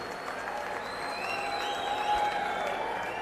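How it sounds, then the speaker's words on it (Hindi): Steady crowd applause at a political rally in Haryana greets Arvind Kejriwal, a dense, continuous wash of clapping that holds for a few seconds with faint voices and tones mixed in. "उनके लिए एक जोरदार तालियों से स्वागत होना चाहिए।"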